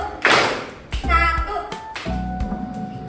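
A classroom of children claps once in unison on a teacher's cue, a single sharp burst of hands, with a teacher's voice speaking before and after it.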